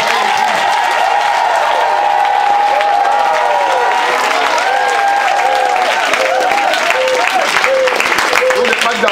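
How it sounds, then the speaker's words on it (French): A church congregation cheers and acclaims Jesus during a sermon, a loud continuous roar of voices with shouting and clapping blended into a thick, unbroken wall of crowd noise. "j'ai dit d'acclamer Jésus"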